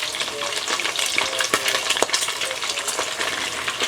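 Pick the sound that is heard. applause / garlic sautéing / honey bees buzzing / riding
garlic sautéing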